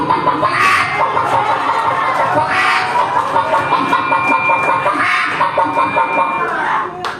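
A person imitates a hen's clucking in loud, rhythmic bursts of squawking calls, close to the listener, with crowd noise and laughter in the background.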